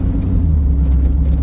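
A 51-year-old Plymouth Barracuda on freshly replaced suspension rolls over small bumps, giving a loud, continuous low rumble of road and engine noise from inside the car.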